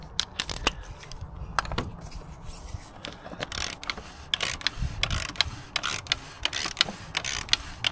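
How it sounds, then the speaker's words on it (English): A small torque wrench set to 25 newton meters ratchets and clicks while tightening on a Mercedes E-Class W212 E250 OM651 engine, giving a series of sharp, close mechanical clicks at an irregular rhythm with no talking. "It's a pretty small torque wrench, already set for 25"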